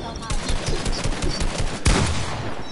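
Rapid gunfire from a Fortnite match crackles in dense bursts throughout, with one louder close shot near the end, while a player's voice talks faintly beneath.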